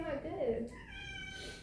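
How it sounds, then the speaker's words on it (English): A chatty house cat gives a drawn-out, wavering meow close by, sliding down in pitch, while people talk quietly in the room. "that's our cat Benny. He's very chatty"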